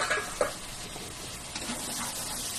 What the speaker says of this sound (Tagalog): Susutay na natin ang bawang.